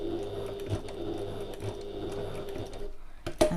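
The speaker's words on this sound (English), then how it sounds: "I'm going to sew across that line" A sewing machine top stitches across a line on a Stanley Satchel bag, a close steady mechanical whir that stops briefly near the end, followed by a sharp click.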